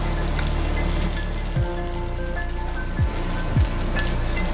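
Pork hits a hot pan and sizzles steadily in a dense, rain-like hiss. A few soft thuds and scrapes sound through the frying, and no one speaks over it.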